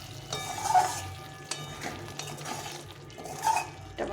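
Pumpkin curry with garam masala and ghee is stirred in a pan, giving a soft, low sizzle with gentle scraping and spoon knocks against the pot, with no talking.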